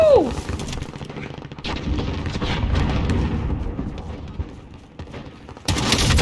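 Video game combat with an RPG blast and rapid gunfire, heard as a dense, continuous barrage of shots and booms. It is fairly loud throughout, dips briefly near the end, then surges again.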